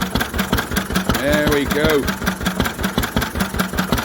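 An old Lister stationary engine runs at idle after its first start in 40 years, a steady close thumping beat that keeps a regular rhythm while someone talks over it.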